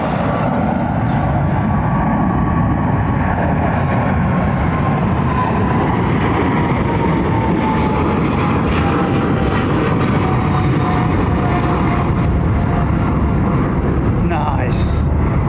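An Air Peace airliner at London Heathrow passes with a loud jet roar and a slowly falling whine, sustained for several seconds. People talk over it.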